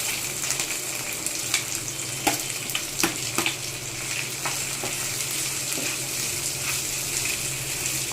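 Onion sizzles and fries steadily in a pan with ginger garlic chili paste and curry leaves, a continuous close crackle broken by scattered sharp pops and light stirring scrapes.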